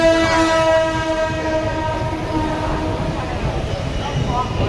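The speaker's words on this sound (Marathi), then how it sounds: "आता ही ट्रेन थांबणार." A train slowing on the approach to Vapi railway station gives a loud steady rumble with a long horn blast at the start and faint wheel clatter beneath.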